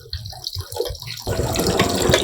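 Herbal tonic for heart blood vessels, Kasthuri Kalpa Rasayanam, 200 ml poured into a mixture: a steady liquid pour that starts after a short pause and continues to the end, fairly close, with no talk.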